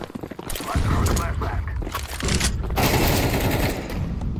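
Video game gunfire rattles in dense, loud bursts of rapid shots that fill most of the stretch. Someone talks over the shooting.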